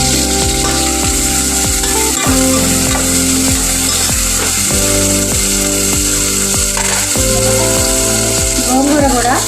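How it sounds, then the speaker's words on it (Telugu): Tomato and green chillies cook in a pan with onion, hissing in a constant loud sizzle while a utensil scrapes and stirs in repeated strokes, for a gongura prawn curry. "తర్వాత టమాటా, పచ్చిమిర్చి ఇవన్నీ మగ్గించుకోవాలి."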